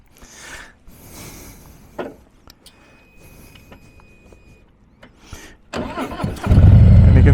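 A 2018 Harley-Davidson Heritage Classic 114 motorcycle cranks with a few brief clicks and whirs, then its engine catches and roars to a loud, close, rumbling idle.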